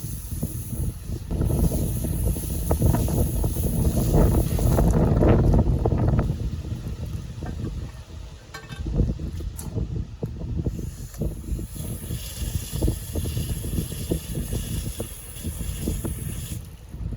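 Water is rinsed through a cracked cylinder head with a steady, rushing hiss. It is strongest over the first six seconds, then turns gustier and uneven.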